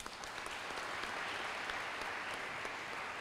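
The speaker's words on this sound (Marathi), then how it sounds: "त्यांच्याकरता टाळ्या वाजवा आता एकदा." An audience applauding honourees at a certificate ceremony for a value-based education exam, steady dense clapping from many hands throughout, fairly distant and soft.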